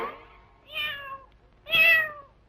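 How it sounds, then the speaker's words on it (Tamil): A cat meows twice in a Tamil film scene. The two drawn-out, rising-and-falling calls are close and clear, separated by a short pause, with no talking over them. "இல்ல பூனை. பூனை. பூனை."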